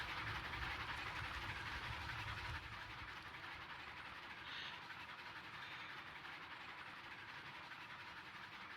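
Train rolling along in the railroad simulation game Railroads Online, a steady loud rumble and rattle of cars on track throughout, with a slight drop in level partway, no talking.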